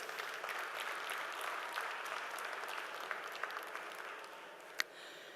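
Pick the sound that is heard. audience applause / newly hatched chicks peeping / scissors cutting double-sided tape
audience applause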